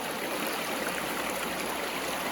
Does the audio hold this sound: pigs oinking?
no